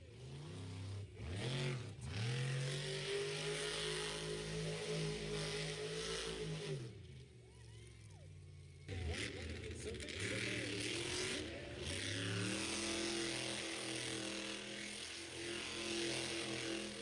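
A monster truck at a Monster Jam–style event in Wheatland, Missouri, revs hard through a donut, its engine pitch rising and falling in loud sustained surges with a brief dip midway before climbing again.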